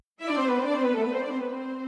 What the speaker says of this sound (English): So now I've got Violin 1, Violin 2 in unison